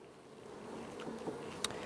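A soft, steady buzzing of honeybees hums close by, faint and continuous, with a few slight clicks and rustles.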